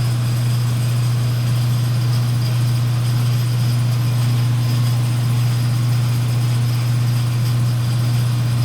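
An air motor drives the gears of a steam wagon, grinding steadily with a loud, continuous droning hum and no pauses or voices.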